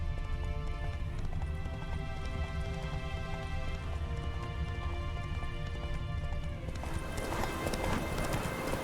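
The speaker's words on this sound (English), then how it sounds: "Not quite the nicest roads to be riding on, but Roach is a fine horse." Geralt's horse Roach trots along a rough road in The Witcher 3, steady clip-clop hoofbeats running continuously and fairly loud over a dense bed of game ambience.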